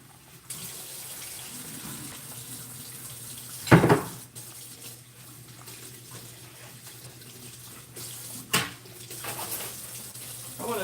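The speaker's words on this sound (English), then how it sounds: "I'm washing off the potatoes." Tap water runs steadily into a kitchen sink while potatoes are washed under it, a soft continuous hiss broken by two brief louder splashes.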